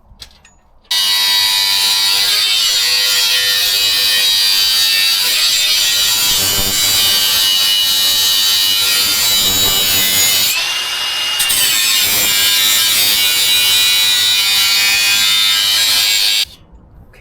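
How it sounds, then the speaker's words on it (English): A handheld grinder smooths the edges of a metal sunroof delete plate for a Honda CRX, a loud, continuous, high-pitched grinding whine lasting about fifteen seconds with a brief dip in the middle, heard up close and alone. "start like grinding all the edges and make it all smooth with my"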